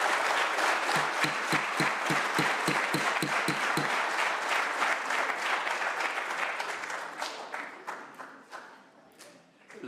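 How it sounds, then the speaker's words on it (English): Applause from the audience at a Sumner County, Tennessee county commission meeting in the chambers: dense, steady clapping that holds for several seconds, then thins out and fades to scattered claps. "The applause will keep us here much longer than we want to be."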